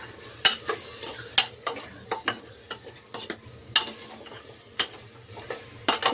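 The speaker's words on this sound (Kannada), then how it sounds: "ಈಗ ರಾಜ್ಮಾ ಮತ್ತು ಆಲೂ ಎರಡು ಹಾಕೊಂಡ್ಬಿಟ್ಟಿನಿ ಈಗ ನಾನು ಏನು ಮಾಡಕತ್ತೀನಿ ಅಂದ್ರೆ ಈಗ ಚಂದೀಗ ಮಿಕ್ಸ್ ಮಾಡ್ಕೊಂಬಿಡಿ" Rajma and potatoes being stirred and fried together in a pan, with a steady run of scraping, clattering stirs over a soft continuous sizzle, close and fairly loud with no talking.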